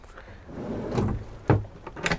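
A large drawer in a 2022 Benimar Tessoro 468 camper van slides and thuds shut, a short rolling rumble ending in a sharp close, loud and close up.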